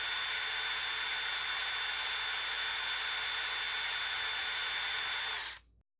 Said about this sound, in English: Let's shave this PCB to allow for clearance.